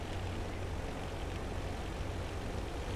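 Tractor engine in the farming video game Real Farm, a steady low droning hum with a constant tonal rumble, faint and unchanging throughout, with no voice over it.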